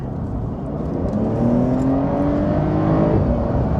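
Porsche 911 in normal mode pulling hard along a straightaway, heard from inside the car as a steady engine drone that rises in pitch and loudness while accelerating.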